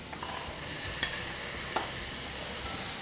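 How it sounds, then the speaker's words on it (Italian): Squid sautéing quickly in a very hot pan gives a steady close sizzle with crackling, plus a couple of sharp clicks of stirring utensils, with no talking. "Stiamo saltando i calamari nella padella calda, ben calda, molto velocemente."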